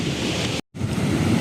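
Turquoise Caribbean-like sea surf at Arraial do Cabo on the Brazilian coast washes steadily, mixed with wind buffeting the microphone. A short silent gap breaks the continuous roar.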